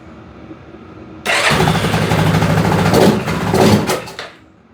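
A Yamaha Grizzly 660 ATV engine, one that has been leaking fuel and balking at throttle, starts after a quiet pause and runs loud and rough for about three seconds, surging twice before it cuts off.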